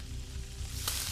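A Steak and Shake Prime Steak Burger beef patty of brisket and chuck sizzles on a hot surface, a steady close crackle with a brief brighter pop near the end.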